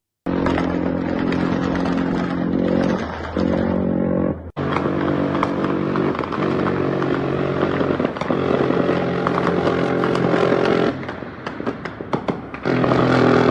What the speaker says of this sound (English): They're exchanging fire. It's not just the helicopter firing down. The cartel are firing back.